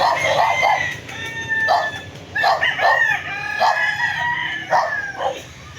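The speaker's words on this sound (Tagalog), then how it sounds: "dami nilang manok" Chickens cluck in bursts while a rooster crows nearby, several overlapping calls from a lively flock of poultry for sale.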